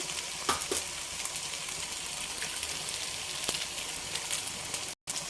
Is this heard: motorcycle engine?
no